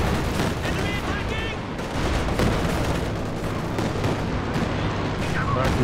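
Gunfire and artillery in the strategy game Company of Heroes 2, with a machine gun and a Katyusha rocket barrage: dense, continuous bursts of shots and booming impacts throughout, with voices audible underneath.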